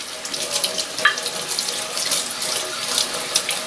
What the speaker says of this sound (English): so wet the stone, wet the plate